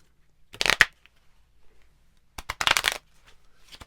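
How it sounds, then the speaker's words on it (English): A deck of playing cards shuffled in two quick riffling bursts, each under a second and close and crisp, separated by a quiet pause. "And then, so we're going to take the cards and we'll shuffle them."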